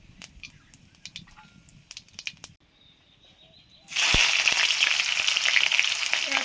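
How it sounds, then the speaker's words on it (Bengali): Dried red chilies and whole cumin are dropped into hot oil to temper mung dal with catla fish head. Quiet clinks and scrapes come first, then a loud, dense, steady sizzle bursts in and holds. "ডালে ফোড়ন দেব"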